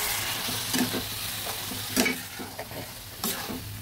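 Long beans and potatoes with mung dal powder being stirred in a frying pan: a steady sizzle broken by a few distinct scraping stirs, with no talking.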